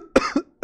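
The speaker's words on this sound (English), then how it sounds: "Why are our coughs synced up?" A short burst of coughs, two quick hacks followed by another a moment later, close and clear.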